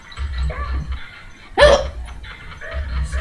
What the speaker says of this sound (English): Them are dogs, not people.